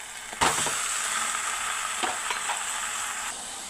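Chicken dropped into a pan of frying onions and green chillies, giving a loud sizzle that holds steady throughout, with a few scraping stirs of a spoon and no talking.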